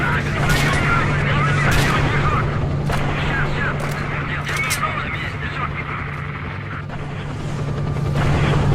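An attack helicopter in S.T.A.L.K.E.R.: Shadow of Chernobyl throbs as a steady low rotor drone under bursts of gunfire and booms, loud and continuous, while someone talks over it.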